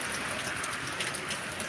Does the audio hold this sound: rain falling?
yes